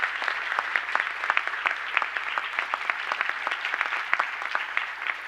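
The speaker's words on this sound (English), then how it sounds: "Let's give them both a big round of applause." Steady applause from the audience at a high school rededication ceremony for distinguished guests, including the lieutenant governor, a dense, even clapping texture with sharp individual claps standing out throughout.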